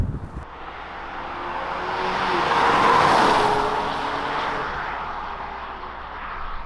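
A 2021 Cadillac CT4 with an 8-speed automatic and rear-wheel drive accelerates hard in sport mode, its engine and road roar swelling steadily to a peak midway and then easing off, heard without talk.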